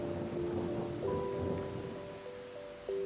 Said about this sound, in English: This rain of today is really out of the ordinary